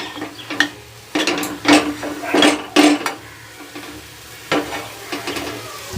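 Mashed boiled potato fried in a pan, heard as a series of spatula scrapes and clatters against the metal in irregular bursts over a faint sizzle, close up and without talk.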